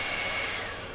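A hair dryer on its cool setting blows steadily across a painting canvas, a continuous close, loud rushing whir that holds even throughout and eases off slightly at the end.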